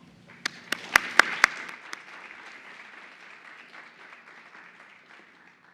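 Audience applause welcoming Darel E. Paul of Williams College to a lecture: several sharp, close claps ring out first, then a broader round of clapping swells briefly and tapers off to quiet.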